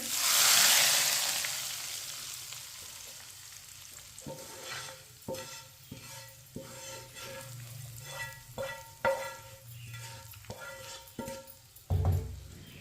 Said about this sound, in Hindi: तड़का डाल लेंगे दाल में।